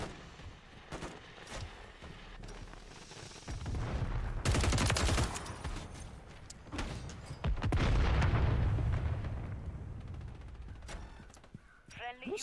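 Full-auto SMG fire in Call of Duty Modern Warfare 3: dense rattling bursts come in bursts and longer sustained strings, with louder passages near the middle and muffled impacts between, all close and punchy.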